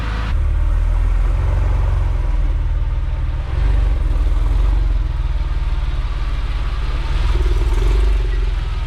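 A Porsche 911 Carrera (997) engine idling as it warms up, a loud, steady low rumble with even rhythm and slight fluctuations, close by and alone with no talking.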